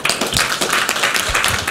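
An audience at a poverty and technology conference applauds after a speech, a dense sustained clatter of many hands clapping, loud and continuous.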